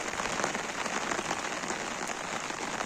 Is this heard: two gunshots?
no